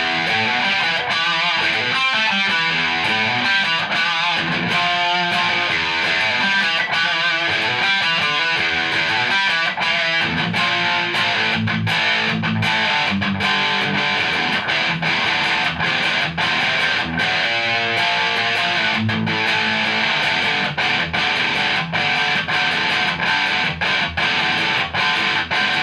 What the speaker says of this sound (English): Bit of extra distortion on the DS1.